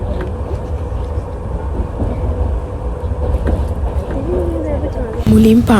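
A moving passenger train on an overnight trip through Assam, heard from inside the carriage as a continuous close rumble and rattle. People talk over it, and a louder burst of clatter comes near the end.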